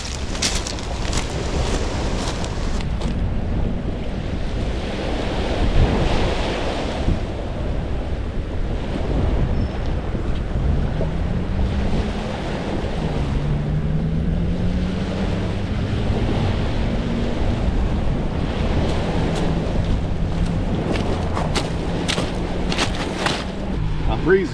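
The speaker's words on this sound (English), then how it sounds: "That breeze has really picked up now." Onshore breeze of about 15 miles an hour buffets the microphone while waves wash and surge on a fishing beach, a steady roaring wash with wind gusts and a voice speaking over it.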